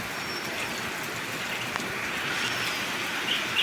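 Steady, heavy rain hisses evenly throughout, a dense wash of falling drops with no voices.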